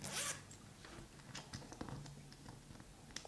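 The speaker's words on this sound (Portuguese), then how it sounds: "posicionei o zíper" A zipper on a handmade fabric wallet with a built-in eco tote bag, pulled in one loud rasping burst at the start, then followed by quieter scattered clicks and handling noises close by.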